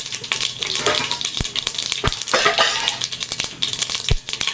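Cumin seeds frying in hot oil in a home-style Tamil kitchen, with a steady close sizzle broken by sharp crackles and pops from the spitting seeds, with no voices over it.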